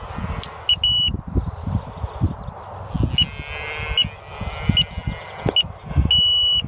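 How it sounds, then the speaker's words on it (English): A Grasshopper unit powers on with clear electronic beeps in repeated groups, bright and close, over a background of low thumping and handling noise. "You'll know your unit is on when you have four short beeps followed by one long beep"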